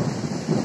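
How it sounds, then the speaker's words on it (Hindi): Thunder rolls in a low, continuous rumble from storm clouds on a windy day, loud and close with a rain-like hiss over it and no voices. "ये बादल गरजने का आवाज है"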